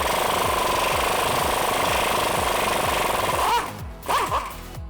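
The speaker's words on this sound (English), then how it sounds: "we're going to use a 14mm socket on this bolt to slowly back it out" Pneumatic impact wrench backing out a rusty 14mm exhaust flange bolt on a Toyota Tacoma, loud rapid hammering rattle running steadily for over three seconds, then cutting off with a couple of short bursts.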